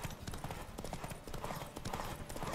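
Horse hooves clip-clopping at a steady gallop in The Witcher 3: Wild Hunt, a rapid run of thudding hoofbeats that continues throughout, fairly faint, with a voice talking over it in places.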